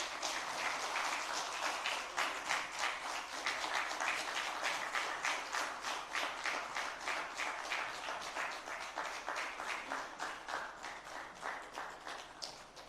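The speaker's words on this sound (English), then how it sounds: "Can we keep clapping, please?" An audience at a fireside chat on democracy breaks into sustained applause after a poem, dense clapping from many hands that stays fairly even and moderately distant, slowly easing toward the end.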